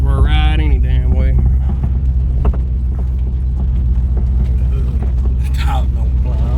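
A C4 Corvette, its choke not yet hooked up, runs with a steady low engine drone and throbbing hum while pulling away, with a few brief voices and small mechanical noises over it.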